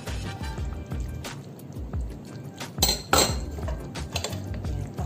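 A lid clinks back onto a pot of pork ribs simmering in Bicol Express sauce with eggplant, giving a few sharp metallic clinks and rattles over a soft, steady kitchen background.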